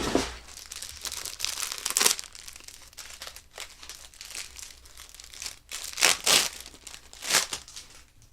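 Thin plastic packaging around a neck gator being ripped open by hand, with loud crinkling and tearing bursts up close, strongest near the start and toward the end, with no talking.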